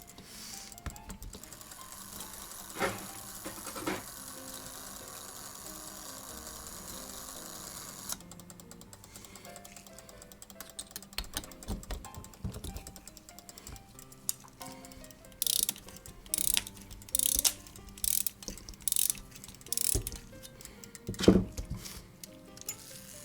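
Small tools tighten parts on an antique American Ansonia kitchen clock during servicing, giving soft ratcheting and mechanical clicks, then a later run of sharper, evenly spaced clicks close by, with no talking.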